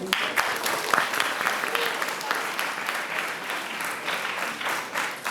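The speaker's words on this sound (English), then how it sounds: "give him a round of applause." An audience breaks into sustained applause, a dense wash of many hands clapping at steady loudness throughout, with some talk mixed in underneath.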